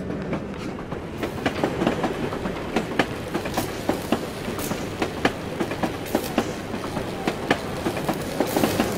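Tram ride through a Russian city in Assassin's Creed Chronicles Russia, steady rumbling rail noise with rhythmic clickety-clack wheel hits and metallic clanks running continuously with no voices.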